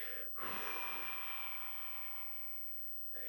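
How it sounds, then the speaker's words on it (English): A long, steady exhale through the mouth during qi gong breathing practice, close and soft, rising quickly then slowly fading before a fresh breath begins at the end. "So I'm breathing out through my mouth so you can hear me."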